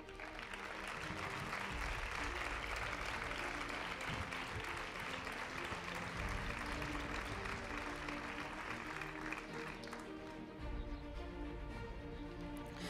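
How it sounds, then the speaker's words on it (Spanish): Sustained applause from an audience at a school community tribute gala in Isla Cristina, honouring two students; steady dense clapping throughout, with a shift in texture near the end as music or tone joins in. "un fortísimo aplauso a estas dos alumnas"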